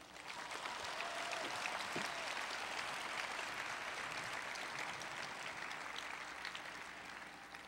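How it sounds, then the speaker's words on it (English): Sustained applause from a large audience at a university honors convocation, a steady dense wash of clapping lasting throughout and tapering slightly at the end. "Let us please recognize this year's Honors Convocation platform with our applause."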